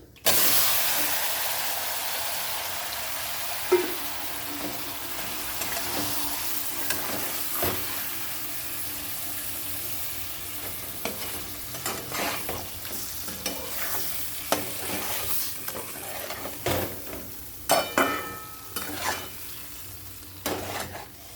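Pieces of fish, including the head, frying in a spiced red-chilli masala in a pan, with loud steady sizzling and repeated scraping stirs that grow busier toward the end, close and without talk.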